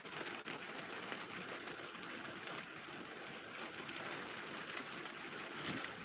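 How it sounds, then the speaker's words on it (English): Heavy rain pours steadily during an early morning severe thunderstorm, a dense, continuous hiss close by with no voices. "Comes the rain, bigger rain even."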